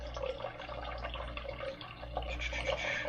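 Filtered water pours steadily into a bowl being measured out for pizza dough, a continuous trickling splash with no break, fairly close and moderately loud.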